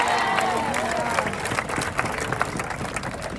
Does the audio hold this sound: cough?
no